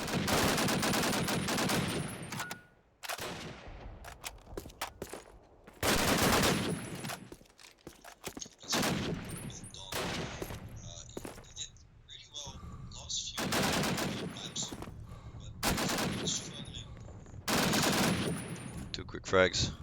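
Rapid bursts of automatic gunfire and single shots from the World War II shooter Call of Duty: United Offensive, played in a competitive cup final match, come in repeated loud clusters separated by quieter gaps.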